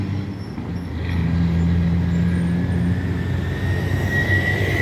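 A loud, steady Detroit Diesel truck engine drone with a deep low rumble, rising in intensity after a second and holding, on a highway in Jamaica.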